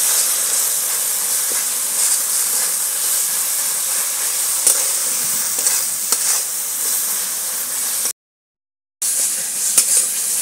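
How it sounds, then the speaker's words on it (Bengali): Masala with Kashmiri chilli powder and salt sizzles and fries steadily in a pan for crab curry, with occasional scrapes of a stirring spoon and a brief drop to silence. "দিচ্ছি নুন, দিয়ে এবার মশলাটাকে ভালো করে কষাবো বন্ধুরা।"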